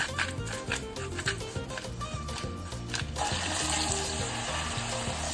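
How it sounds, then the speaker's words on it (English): Beef seasoned with salt and pepper searing and browning in a pan, a steady sizzle running under rhythmic background music throughout. "We're going to sear. We'll brown it."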